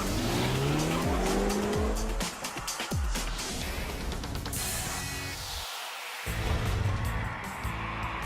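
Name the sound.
2012 BMW Z4 roadster four-cylinder engine driving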